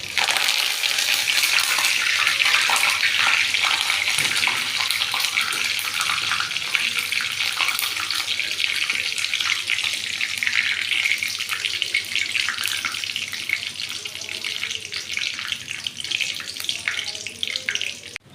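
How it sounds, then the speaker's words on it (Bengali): Curry leaves fried in hot oil, made just after peanuts were fried, give a dense, steady hiss and crackle that holds loud and close for the whole stretch, easing off slightly toward the end. "একটু কারি পাতা নিয়ে এসেছি, এই কারি পাতাটা ভেজে তুলে নেব।"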